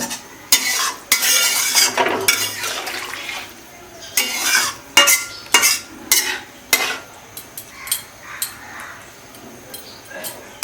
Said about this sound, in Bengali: খুব সুন্দর করে আগে একটু নাড়িয়ে চেড়িয়ে নেবে